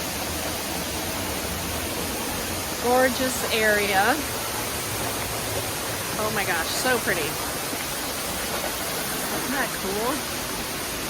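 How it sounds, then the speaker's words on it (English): A waterfall heard from the cave-like hollow behind the falling water produces a steady, even hiss of rushing water throughout, while someone talks excitedly over it in a few short bursts. "So here I am behind the waterfall."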